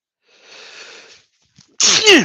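A single loud, close sneeze in a workshop, a soft indrawn breath followed by a sharp explosive burst.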